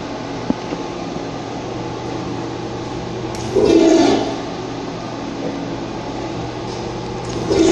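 An American Standard toilet rated at 1.6 gallons per flush, inside a Pizza Hut restroom, flushes with a loud rushing surge midway through, set against a steady low mechanical hum of the room.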